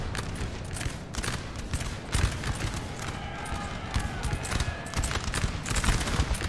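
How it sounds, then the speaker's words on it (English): Artillery and musket fire rattle through a Napoleon Total War battle, a dense, steady crackle of distant shots with heavier thumps mixed in, continuing throughout with faint speech underneath. "Ooh, the artillery, though."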